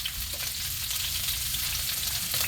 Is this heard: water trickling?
no